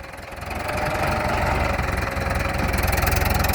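A New Holland TS90 tractor engine runs close and loud, a steady diesel drone that climbs in the first half-second and then holds a strong, throbbing rev with a rough, knocking pulse throughout.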